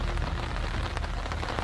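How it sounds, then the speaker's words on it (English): Steady, dense rain from a heavy storm hammering down on a surface, a continuous loud wash with scattered heavier drops and no voices. "It is flat out raining now. In fact, it's storming."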